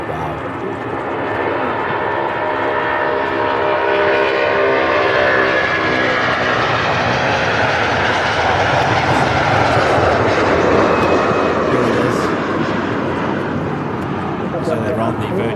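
A Virgin Atlantic A330-300 jet departs from Manchester with a heavy, sustained engine roar, tonal whine layered over deep rumble, building slightly and staying loud throughout, while people talk faintly underneath.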